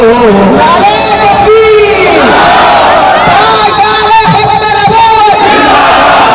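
A crowd at a Khatm-e-Nabuwat rally in Chowk Azam, Layyah, chants slogans loudly in unison, with a leader's call and massed shouted responses repeating in rhythmic bursts over constant crowd noise.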